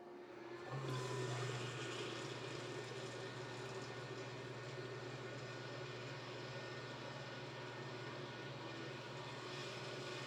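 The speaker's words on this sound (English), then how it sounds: "Once the coolant was added, I powered the laser up for the first time." An xTool P2 CO2 laser cutter with added coolant powering up for the first time, starting with a click and then a steady mechanical hum with whirring fans and pumps that holds evenly throughout.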